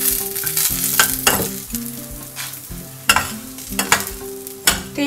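Grated coconut frying in a pan with tamarind for coriander rice, steady sizzle under repeated scraping stirs of a spoon, close and fairly loud.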